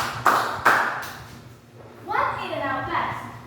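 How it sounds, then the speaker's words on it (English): A class claps three times in a row for a student in a classroom lesson; the three sharp, evenly spaced claps come first, followed by a voice speaking. "Let's give 3 claps to Jerry."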